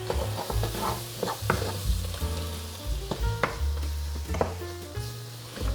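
Mushrooms and flour fry in a pan with a loud, continuous sizzle, while a utensil stirs and scrapes against the pan in irregular bursts close by.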